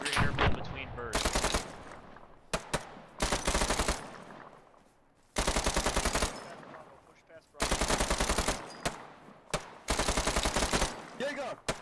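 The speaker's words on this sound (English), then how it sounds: "give me some sustained fire on that structure. Sustained, short fire." Machine gun fire in Arma 3 comes in several sustained bursts of rapid, loud, close shots, separated by short pauses with a lingering echo between them.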